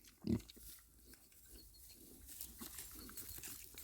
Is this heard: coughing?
no